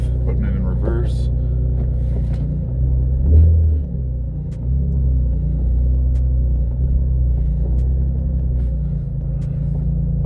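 Infiniti G35 Coupe with a six-speed manual and a new single-piece aluminum driveshaft idles and pulls away, a steady low engine rumble with a brief swell of revving, heard close from inside the car.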